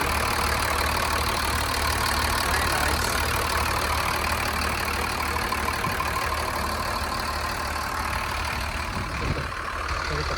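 The Mercedes engine of a 2004 Thomas FS65 school bus idles smoothly and steadily close by, a constant low rumble with a brief spoken remark over it.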